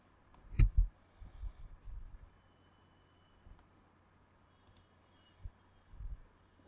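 Sparse, quiet mouse clicks while working in Microsoft Dynamics 365 warehouse location setup: a few isolated sharp clicks spread over several seconds against a faint background hiss.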